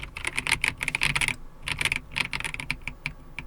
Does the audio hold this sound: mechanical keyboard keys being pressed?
yes